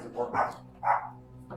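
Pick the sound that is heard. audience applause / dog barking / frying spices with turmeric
dog barking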